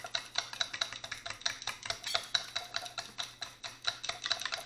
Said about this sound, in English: then you're going to mix it until it dissolves